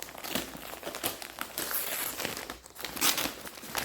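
A double plastic bag package crinkles and rustles in bursts as it is pulled open by hand, with sharp crackles and tearing sounds up close.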